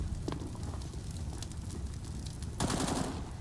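AK rifle fire in a Counter-Strike match on Mirage, rapid bursts of gunshots crackling over a dense background, with a louder volley breaking out near the end.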